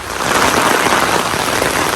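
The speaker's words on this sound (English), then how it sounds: "Wow, it's pouring." Heavy rain pours onto an umbrella held outdoors on a hill during a long walk, a dense, loud, close-up patter with no voices.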